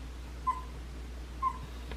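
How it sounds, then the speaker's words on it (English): A sleeping puppy gives two faint, short whimpers about a second apart, soft and close against a low steady hum in a quiet room. "puppy dreaming"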